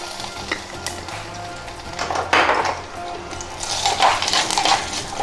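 Steady sizzling of spices and chili powder frying in hot oil, with occasional clinks and scrapes of a utensil against the pan.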